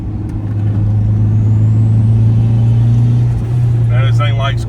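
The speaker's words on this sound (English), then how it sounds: "This thing's got a big old turbo, so it's got a little bit of lag." Turbocharged 1998 Honda CR-V engine droning steadily and loud from inside the cabin on the road, a low, even hum that edges slightly upward, with a voice briefly heard near the end.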